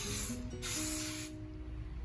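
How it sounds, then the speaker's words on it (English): Two short bursts of cooking oil spray hiss onto potatoes, the second slightly longer, close up, over a low background hum. "I'm going to go ahead and spray some more oil on it."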